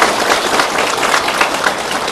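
An audience claps together at an event honouring teachers, a dense, steady burst of applause filling the room for about two seconds with no clear voices above it.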